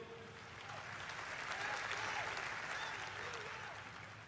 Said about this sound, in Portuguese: pode glorificar ao Senhor com palmas mesmo